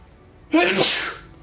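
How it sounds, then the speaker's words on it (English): A single loud sneeze close to the microphone, a sharp burst that trails off over about half a second, during a live game-discussion stream. "Sorry about my sneezing."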